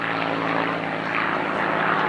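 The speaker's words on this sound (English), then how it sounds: "the Messerschmitt stealing onto the scene again" A Messerschmitt fighter plane passes at an airshow with its propeller engine droning steadily, loud and fairly near, with no talking heard over it.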